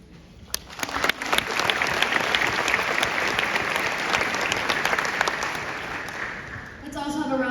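Sustained applause from a graduation audience fills the hall, rising quickly to a steady roar of clapping during a class president's speech at the SHS 2023 ceremony, then tapering near the end as a voice begins speaking.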